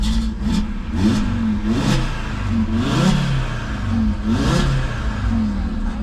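Car engine revved hard toward maximum speed, repeated rising and falling surges of a close, loud motor over a steady low rumble.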